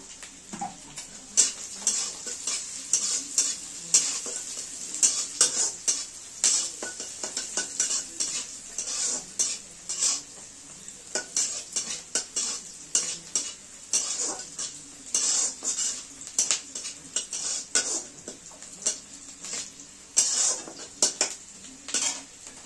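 Potato pieces tossed into a pan of lightly browned frying onions for chire pulao, a spatula scraping and clattering against the metal over a steady sizzle, with dense, continuous stirring strokes throughout.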